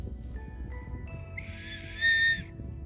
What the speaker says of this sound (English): you can blow the whistle so somebody can hear you and they can help you